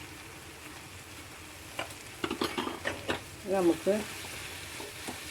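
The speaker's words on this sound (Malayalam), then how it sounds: "ഒന്ന് ഇളക്കി കൊടുക്കാം" Okra masala curry with turmeric being stirred in a frying pan, with soft sizzling and a handful of scraping stir strokes growing louder toward the end, and a brief spoken word.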